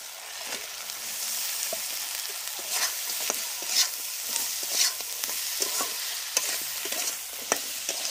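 Crabs frying in hot oil with ginger paste and spices, a steady close sizzle broken by repeated scrapes and clatters of stirring, with no talking.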